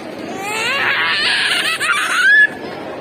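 A young child screams and wails at a family meal, one long rising and falling cry held for over two seconds, close and loud, ending in a shrill squeal.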